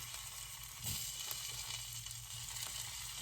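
Hash browns sizzle and fry steadily in a pan while a full English breakfast is cooked, a continuous crackling hiss with a brief stir-like bump, close and alone without talk.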